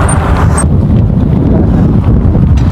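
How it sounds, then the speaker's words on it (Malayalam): Strong wind buffets the microphone at a volcanic eruption site, a loud, constant low rumbling roar with no pauses. "ഈ കാറ്റ് കാരണം പോകാൻ പറ്റുന്നത്."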